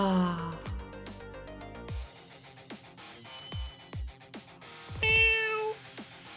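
A kitten in the video game Ghost Trick gives several short, high meows spaced a second or so apart among soft game sounds, with the last cry longer and louder.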